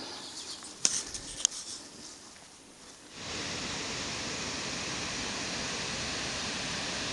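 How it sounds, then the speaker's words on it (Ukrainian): Steady, loud rush of water pouring over the Nyzhnoblynska dam on the Vorskla River, a broad continuous roar after a quieter opening with a couple of sharp clicks. "Ох, і шумить там водичка"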